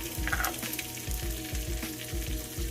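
Onions and garlic fry on top of bacon in a pan, a close, continuous crackling sizzle with rhythmic stirring scrapes and no voices.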